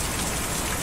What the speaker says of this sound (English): Whoops, that's the rain.